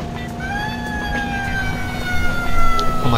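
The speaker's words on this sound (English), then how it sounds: "Oh my god, that siren sound." An emergency vehicle siren from the video game Driver 2 wails loud and steady, with a sustained tone that slowly shifts pitch over a dense rumbling background.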